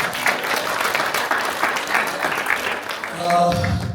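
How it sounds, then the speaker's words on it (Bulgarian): Audience applause at a public gathering at Hotel Hilton Plovdiv, dense continuous clapping from a crowd that swells slightly near the end, with voices mixed in. "отправете аплодисменти към вас и към нещо хубаво за кауза"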